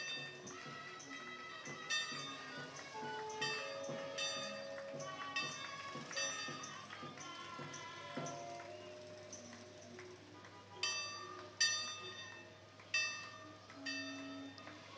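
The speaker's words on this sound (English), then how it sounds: "Something about the sound of those bells" Bells ring out in a steady series of bright, resonant strikes, with sharper, louder peals near the end over a faint background murmur, at a street parade in downtown San Mateo.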